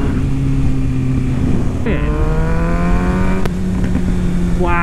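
Kawasaki Ninja 636 sport bike engine idling loudly nearby, then revving up with rising pitch and a brief crackle of exhaust pops before settling back to a steady idle.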